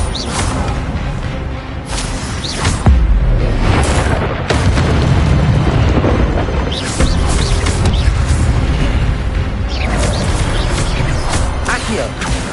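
Spellcasting in the Hogwarts Legacy video game, with a loud fiery burst and deep booming impacts, followed by rumbling crashes that continue under a voice calling out spells.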